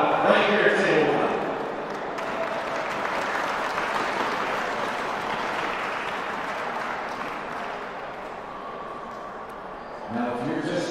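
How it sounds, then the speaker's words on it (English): Sustained audience applause in a hall honoring semifinalists at a table tennis team championship, dense steady clapping filling the room for about ten seconds before tapering off, with a voice starting to speak at the end. "please give a warm round of applause for our semifinalists"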